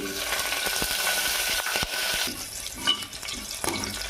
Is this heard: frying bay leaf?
yes